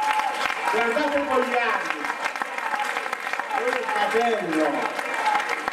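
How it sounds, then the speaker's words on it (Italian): Audience applause fills an assembly hall at a federal party meeting, steady clapping from a large crowd running throughout, with someone speaking over it through the PA. "fate un applauso"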